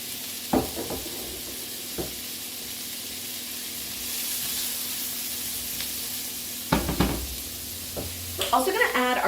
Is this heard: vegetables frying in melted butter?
yes